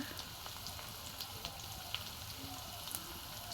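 Onion and garlic frying together in a pan make a quiet, even sizzle with small scattered pops, faint and steady throughout.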